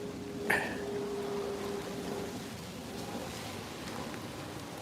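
Steady rain falls throughout, a dense even hiss with a brief sharper knock near the start and no voices.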